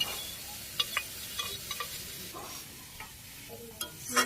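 Small fish go into a pan of softened vegetable stems frying in a home kitchen, giving a steady soft sizzle broken by several sharp clicks of stirring against the pan, with no talk.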